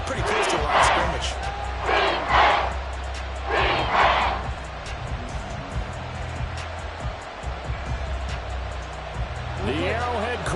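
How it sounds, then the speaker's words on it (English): A stadium crowd at Arrowhead roars in the Madden 24 American football video game, loud surging waves of cheering that rise and fall repeatedly, with commentary voices talking over them. "The Arrowhead crowd in full roar."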